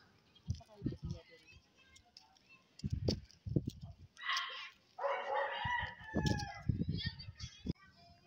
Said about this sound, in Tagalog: May chicken sila, may manok.